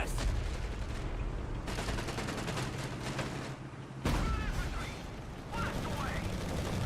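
Heavy gunfire and explosions from a World War II tank battle video game fought on legendary difficulty, a dense continuous roar of shots and booms with voices talking over it throughout.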